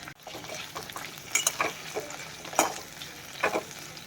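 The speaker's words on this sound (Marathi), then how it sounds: "मी परत एकदा परतून घेते" Sweet potato slices being stir-fried in a pan give a soft background sizzle. Several sharp scraping and clinking strokes of a spatula against the pan come at irregular moments, with no talking.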